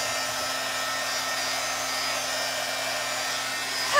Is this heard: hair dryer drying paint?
yes